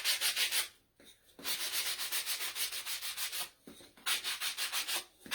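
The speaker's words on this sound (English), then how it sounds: "I'm going to just distress it a little bit with the sandpaper." Sandpaper is rubbed over a small white-painted wooden plaque to distress it: close, rapid scratchy strokes in several bursts, broken by two short pauses.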